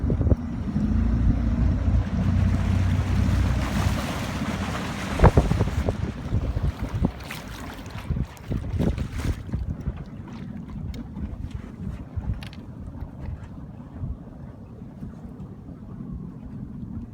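Pro Boat Miss Geico 29 V3 RC speedboat running on a 6s setup with a Grim Racer prop, a loud steady whine at full throttle over water, with wind buffeting the microphone and a sharp knock partway through before the sound eases off.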